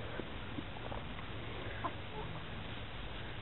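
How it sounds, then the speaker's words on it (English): Hens cluck softly in the early morning, a few faint, scattered calls rising from a quiet, hissy background as they wait for chicken scratch. "The ladies were up bright and early this morning, ready for some chicken scratch."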